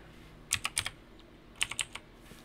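Typing on a computer keyboard, two quick close bursts of crisp key clicks separated by a short pause.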